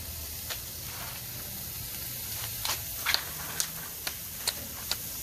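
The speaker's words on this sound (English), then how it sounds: "searing them on one side really quickly like this" Burgers sear on a grill with a steady soft sizzling hiss, broken by scattered sharp ticks and pops, fairly faint and close with no talking.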